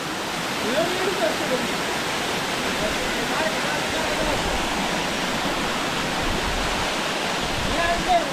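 Devle waterfall in Devarukh, Sangmeshwar, a steady, dense roar of falling water that fills the whole clip, loud and close, with no breaks.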